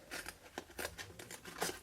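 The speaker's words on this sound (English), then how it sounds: "Ooh, grab your scissors." Scissors snipping through paper cardstock in a quick series of crisp cuts, close up, about eight short strokes in a steady rhythm.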